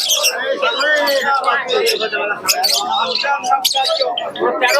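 Pigeons and doves crowd a busy bird market in Beldanga, filling the air with dense, overlapping chirps, calls and coos, loud and close throughout.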